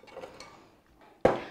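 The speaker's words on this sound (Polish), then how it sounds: "Wrzucamy cebulę do garnka." Chopped onion drops into a cooking pot with a single sharp clatter after a brief stretch of soft, quiet kitchen rustling.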